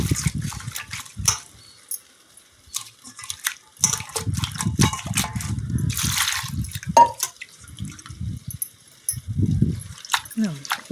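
Fresh palak spinach leaves being rinsed by hand in water while cooking: close splashing, dripping and sloshing in uneven bursts, with someone talking at intervals over the watery sounds.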